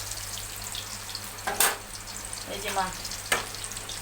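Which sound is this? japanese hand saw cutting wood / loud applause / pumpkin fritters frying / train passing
pumpkin fritters frying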